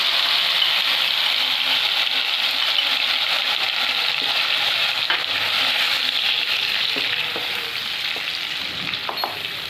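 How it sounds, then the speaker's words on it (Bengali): Capsicum, garlic and charred tomato masala sizzle and fry in a pan for paneer butter masala, a loud, continuous close-up crackle with occasional stirring clinks. "মশলাটা একটু ভাজা ভাজা হবে।"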